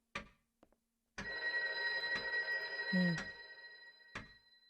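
An old-fashioned telephone bell rings in a Loretta mystery video game, several sharp ringing bursts spaced about a second apart with a sustained metallic tone between them, fairly close, with a brief low thud partway through.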